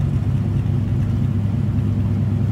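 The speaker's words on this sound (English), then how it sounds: "Throaty little growl coming out of that" The small-block V8 engine of a 1967 Pontiac Firebird coupe rumbles with a deep, throaty growl, steady and close by, with no one talking.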